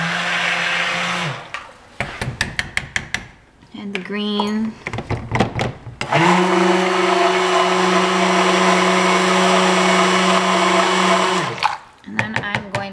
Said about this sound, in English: we're done with the stick blender